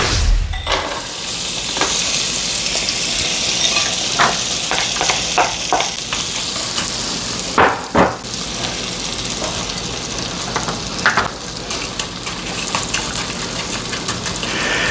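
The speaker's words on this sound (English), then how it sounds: "So let's get started and cook our potatoes." Loud, steady sizzling of potatoes frying in a pan, with occasional scraping and stirring clatter throughout.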